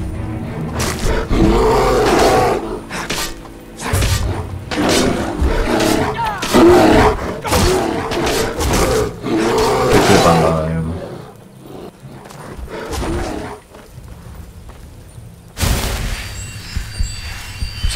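Bears in Skyrim roar and fight loudly and close, their growls and snarls layered in dense, overlapping bursts for several seconds before fading to a quieter rumble and then one final loud burst.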